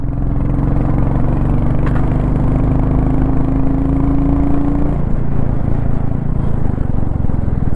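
A Royal Enfield Goan Classic 350 single-cylinder engine drones loud and steady throughout the ride, its pitch holding briefly before easing down partway through.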